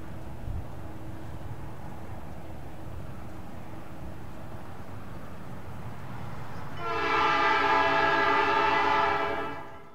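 Low rumbling ambience, then an old cast Nathan P5 train horn on a log train in North Carolina sounds from afar, a sustained chord lasting a few seconds before fading.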